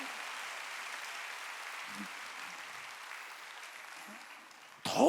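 A church congregation claps steadily in a sustained round of applause during a Wednesday worship service, fading slightly, then a louder sound bursts in at the very end.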